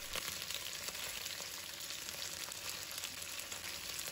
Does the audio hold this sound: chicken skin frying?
yes